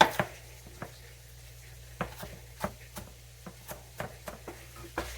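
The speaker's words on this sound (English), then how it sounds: "just chop this up. Rough chop." A knife rough-chops a few handfuls of spinach on a board in a home kitchen, making a dozen or so crisp, uneven taps against a quiet background.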